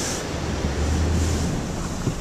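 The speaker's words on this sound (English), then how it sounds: "40 mile an hour wind gusts and no snow" Blustery wind gusting to about 40 mph roars across the microphone in a steady, rumbling rush with slight surges, no voices present.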